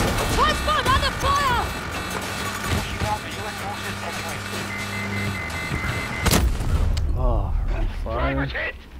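Gunfire and explosions from the shooter game Battlefield 2042 in Conquest mode, a dense, loud barrage with a sharp blast near the end, all under people talking over it.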